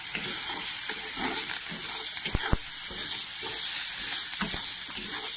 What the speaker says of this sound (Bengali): তো আমি ধনে পাতাটা দিয়ে এর সঙ্গে নেড়ে চেড়ে একটু কষিয়ে নেবো।